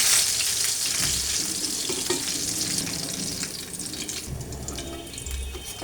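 Rohu fish curry with potatoes simmers in a pan, giving a soft crackling sizzle and bubbling with occasional stirring clinks, fairly quiet and without voices.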